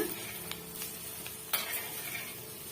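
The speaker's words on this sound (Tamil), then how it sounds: "இப்போ நம்ம சேர்த்துருக்க அந்த மிளகாய் தூள் வந்து இந்த கேழ்வரகோட நல்லா கலந்து ஒட்டி வரணும் லைட்டாக இது போல் திரட்டி விட்டுக்குங்க" A ragi flour mixture with chili powder stirred in a pan, soft continuous scraping and sizzling with a few light clicks of the spoon against the pan, close and fairly quiet.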